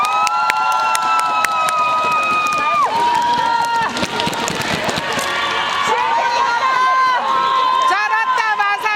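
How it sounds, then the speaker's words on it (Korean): A festival crowd at the Masan Manaljae celebration claps and cheers loudly and continuously, with shouts and whoops, while a host's amplified voice carries over the applause. "큰 박수 주세요"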